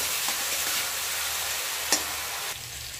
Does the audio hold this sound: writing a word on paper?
no